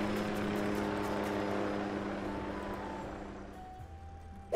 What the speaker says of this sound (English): How many times that helicopter is going to pass by?